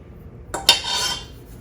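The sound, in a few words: spoon scooping cheese bread dough from a bowl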